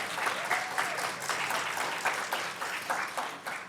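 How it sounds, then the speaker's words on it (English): Audience applause for student teams at a project showcase, a steady moderate patter of many hands clapping throughout. "So great round of applause for both teams today."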